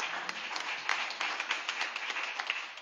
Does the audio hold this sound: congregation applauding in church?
yes